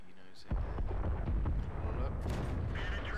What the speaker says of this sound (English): all of a sudden, I hear a massive explosion